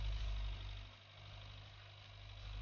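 A tractor engine idles in the farming game Agricultural Simulator 2013, a steady low rumble with a deep hum that dips briefly and then swells again, moderately quiet and heard alone.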